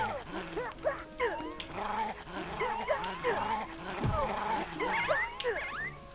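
Dogs bark and yip repeatedly over a busy bed of game music and effects, fairly close, with some whimpering mixed in.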